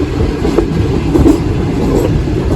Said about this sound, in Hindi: मैं बड़े अरसे बाद ट्रेन पे बैठा हूँ